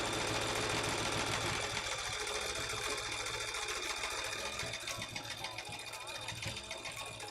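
A sewing machine runs close by, stitching a zipper in a rapid steady whir with small rhythmic ticks and slight speed changes, continuous throughout.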